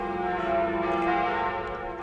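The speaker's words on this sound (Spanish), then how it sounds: "siempre con el tañido de las nuevas campanas de fondo" Notre Dame's new church bells ring with a sustained, resonant hum, their tones blending and lingering steadily throughout.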